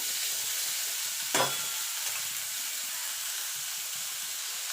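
Cubed potatoes being stirred and fried in oil in a wok, a steady close sizzle with one sharp scrape of the spatula early on, no voices.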